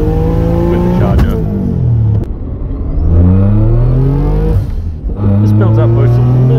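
A twincharged turbo AWD Toyota Camry with supercharger accelerates hard through several gears, the engine note climbing loudly in repeated rising sweeps with short dips at each shift, heard from close by.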